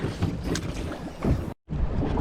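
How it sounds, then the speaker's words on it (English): Strong wind buffeting the microphone outdoors near water, a loud continuous roar with gusty swells and a brief dropout near the end. "Ah, it's a wind. That is a wind."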